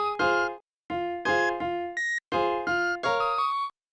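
Super Mario Maker items play Peach's song melody as a run of bright, plucky synthesized video-game notes. They come in short phrases separated by brief silences, clear and close, with no voices.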